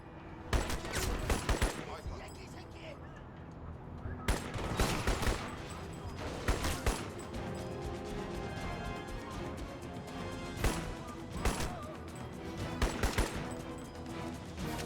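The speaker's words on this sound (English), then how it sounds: "really need to step off the mounted machine guns already" A mounted machine gun firing in Crysis, with repeated loud bursts of rapid shots in clusters across the whole stretch, separated by short gaps, close and dominant.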